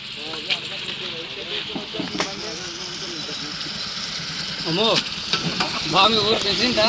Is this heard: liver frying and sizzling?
yes